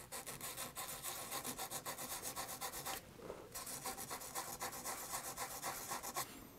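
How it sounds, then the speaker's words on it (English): Very fine sandpaper buffs a part on a Grandstand Astro Wars (Epoch Galaxy II) handheld game, a quick, even back-and-forth rubbing in close, faint strokes that pause briefly partway through. "sometimes you need very fine sandpaper just to buff it a little bit"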